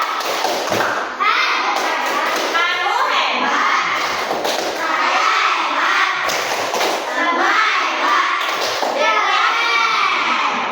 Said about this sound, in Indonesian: Berarti tepuk hebat dulu untuk Depa.